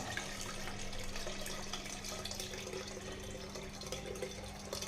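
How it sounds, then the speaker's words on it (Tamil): Rice-washing water poured from a vessel into a cooking pot while making sweet pongal, a steady, continuous splashing pour heard close up without talk. "அந்த அரிசியில் வந்து தண்ணி விட்டு நல்லா கழுவிட்டு அந்த தண்ணி வந்து தான் நம்ம இப்போ இதில் சேர்த்திக்க போகிறோங்க"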